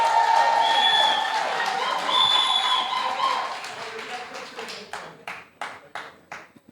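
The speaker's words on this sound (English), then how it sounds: "A round of applause to our young people." Loud, dense audience applause for young people at a live youth-edition show, sustained for several seconds before thinning into scattered, separate claps at the end, with crowd noise mixed in.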